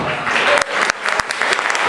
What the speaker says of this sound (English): Big round of applause to our future Bollywood, Hollywood actors and actresses.